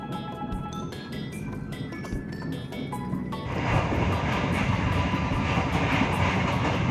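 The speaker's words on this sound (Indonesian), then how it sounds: "KA Singasari kembali diberangkatkan dari stasiun Cikampek jam 18:59" The KA Singasari economy premium passenger train pulling out of Cikampek station in the evening, heard from aboard as a rumbling carriage drone that grows noticeably louder and rougher partway through, with no talking.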